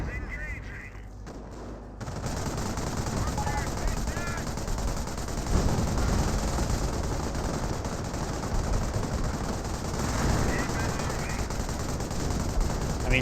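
A Vickers machine gun emplacement in the World War II strategy game Company of Heroes, rattling off sustained automatic fire amid dense, continuous battle noise that starts abruptly and holds loud throughout.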